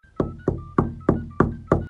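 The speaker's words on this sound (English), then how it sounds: "the knock rang again, this time softer." Six evenly spaced knocks on a door, each a hard, resonant thud with a short decay, close and clear, and no one speaking.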